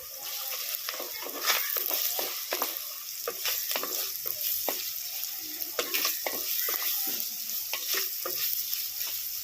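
Onions sizzle in a pan with rock salt while being cooked village style for fish curry; steady close frying hiss with repeated clicks and scrapes of stirring throughout.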